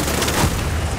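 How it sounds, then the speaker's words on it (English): A big explosion in The Division 2 video game sounds as a loud, dense, rumbling blast with a short thump, filling the brief moment with no voices. "That's a big explosion."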